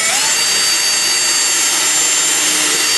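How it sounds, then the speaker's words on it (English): Power drill boring a pilot hole straight through a slab of natural-edge wood for a lazy Susan turntable, a loud steady high-pitched whine held without a break, close up and alone. "I'm just going to drill a pilot hole right through the middle there,"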